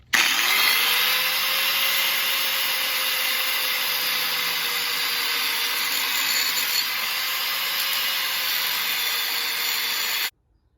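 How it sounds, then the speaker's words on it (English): An angle grinder cuts an old metal fence post in half, giving one steady, loud, high-pitched whine for about ten seconds before stopping abruptly. "I'm going to cut it with my grinder. I'm going to cut it in half."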